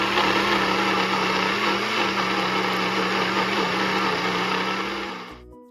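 An electric mixer grinder whirs at full speed, grinding idli podi ingredients: a loud, steady, high motor drone with a rattling grind close by, running throughout before cutting off abruptly at the end, no talk.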